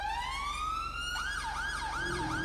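A police car siren wails upward in one long rising sweep, then switches to a fast, repeated yelp that warbles up and down several times, loud and clear with no talking.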